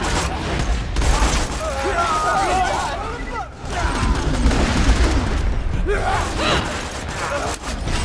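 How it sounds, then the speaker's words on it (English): A barrel shot and exploding in Borderlands 2: loud bursts of gunfire and a blast within chaotic game action, mixed with grunts and yells, while a voice talks over it. "I waited for him to get right next to that barrel and then I shot it."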